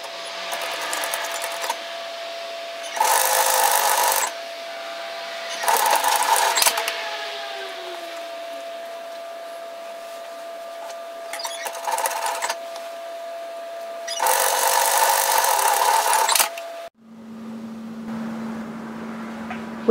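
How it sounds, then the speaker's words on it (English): A domestic sewing machine stitches a 1 cm (3/8 inch) seam in a jacket-shirt, running in several separate bursts with a steady mechanical whir and quieter pauses between them, ending in a low motor hum. "we're going to sew across at 1 centimetre 3/8 of an inch"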